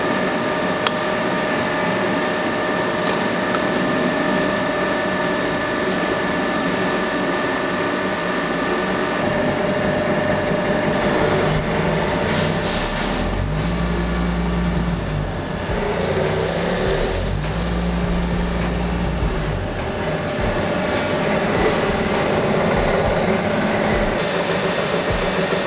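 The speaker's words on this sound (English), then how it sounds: "So I'll start it up and I'll show you how it runs" A CNC machine works bar stock into winch-rope parts with a steady mechanical hum and whine. A deeper rumbling cycle swells twice partway through, and no one speaks.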